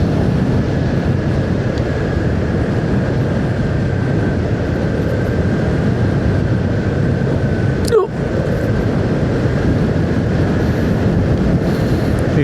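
Motorcycle ride on a wet road toward Kundasang: a steady, loud broadband roar of wind and road noise runs throughout, with one brief sharp disturbance partway through.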